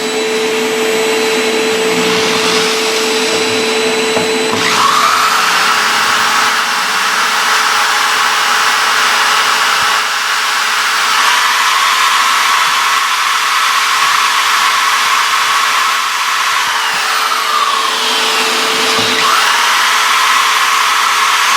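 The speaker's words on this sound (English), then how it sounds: "I'm going to drill the hole with just a regular drill bit." A power drill with a regular bit bores a hole in a resin bust, a loud continuous whine that shifts pitch as the motor loads and eases, running almost without pause alongside vacuum-like roar.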